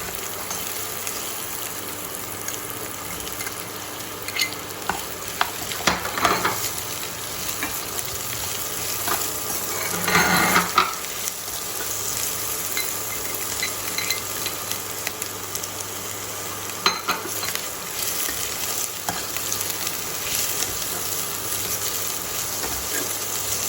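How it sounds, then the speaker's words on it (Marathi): Onion, capsicum and carrot stir-fried in a pan for veg hakka noodles give a loud continuous sizzle, broken by repeated scraping and tossing bursts of the stirring spatula, with a faint hum underneath. "इथे आपला कांदा थोडासा परतून झालेला आहे तर आता आपण याच्यामध्ये सिमला मिरची व गाजर घालून घेऊयात"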